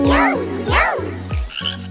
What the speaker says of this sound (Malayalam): ഒരു കുഞ്ഞൻ തവളയിതാ മരത്തടിയിലിരിക്കുന്നു